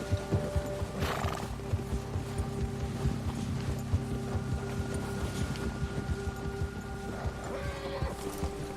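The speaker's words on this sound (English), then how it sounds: "Opa, o cavalo tá com medo." A frightened horse whinnies loudly and shifts with clopping hooves in the Red Dead Redemption II video game, outdoors with wind, the neighs rising over an uneven patter of steps.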